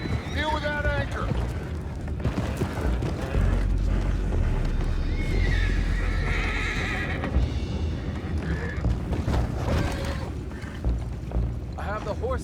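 Horses in Red Dead Redemption whinny in shrill, wavering calls below deck on a ship with an anchor: one near neigh at the start and another later, over a steady rumbling background with voices in the game.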